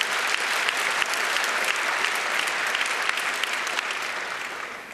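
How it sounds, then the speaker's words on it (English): Applause from a conference keynote audience, a steady dense wash of clapping that holds throughout and thins slightly toward the end, with no voices over it. "you can clap if you want"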